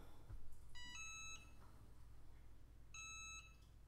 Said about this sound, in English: Oh, I had the timer set.